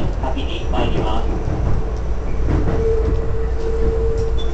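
A Keikyu New 1000 series six-car train with PMSM motors departs Yokohama station, its steady rolling rumble and rising motor tone running throughout, with station announcements and voices heard over it.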